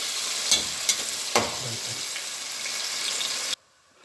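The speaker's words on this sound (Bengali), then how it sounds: "আমার তেলটা গরম হয়ে গেছে আমি তেলটা দিয়ে দিচ্ছি" Oil goes into a hot pot for a chicken dish and sizzles. A loud, steady frying hiss has a few sharp spatters near the start, then cuts off abruptly just before the end.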